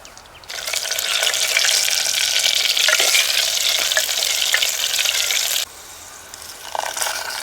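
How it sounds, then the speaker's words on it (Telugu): Garlic cloves and dried red chillies frying in hot oil, giving a loud, steady sizzle and crackle that runs throughout and briefly drops in level near the end. "మూడు చెంచాలు నూనె, 4 వెల్లుల్లి రెబ్బలు, 8 ఎండుమిరపకాయలు, కొంచెం సేపు ఆగనివ్వాలి."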